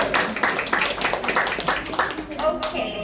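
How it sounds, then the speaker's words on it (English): A round of applause breaks out from an audience at a book launch, uneven clapping rising and falling in bursts while voices talk over it. "Let me give him a round of applause."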